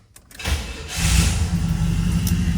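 A 1973 Buick Riviera boattail with a 455 V8 cranks briefly and fires up, settling into a loud, steady, rumbling idle, recorded close with no voices.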